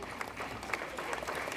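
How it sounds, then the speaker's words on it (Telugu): An audience claps together in a hall at a school cultural gathering, a dense, steady patter of many hands with scattered sharper claps throughout, moderately loud and with no speech over it. "మీరందరూ చప్పట్లు కొట్టచ్చు"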